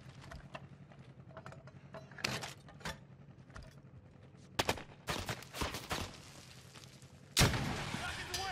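Bursts of gunfire and broadband blasts from Call of Duty Warzone gameplay come in scattered shots and short volleys. They grow louder and denser toward the end and are mixed with other game noise and a voice.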